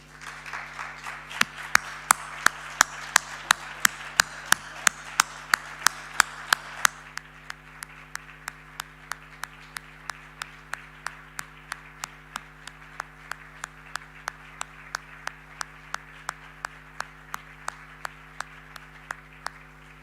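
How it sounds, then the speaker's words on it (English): An audience applauding at an EJA Auschwitz delegation event, steady rhythmic clapping from a crowd that starts dense and thins into sparser, evenly paced claps, moderately distant over a constant background hum. "I kindly would like to ask everyone to stand and applaud Adidas company for this brave decision."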